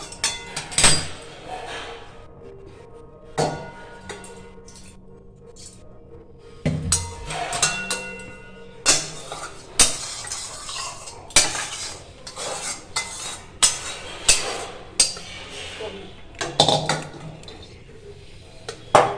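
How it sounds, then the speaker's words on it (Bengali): Metal cookware and utensils clatter and scrape while a wok is rinsed with water, with repeated sharp clanks and knocks at close range and no talking. "একটু কড়াইটা ধুয়ে জলটা দিয়ে দিই।"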